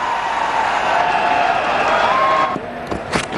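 A large crowd at an India vs Australia one-day international cricket match in 2009 roars and applauds a boundary struck down the ground, a steady dense cheer that fades slightly toward the end, with faint voices over it.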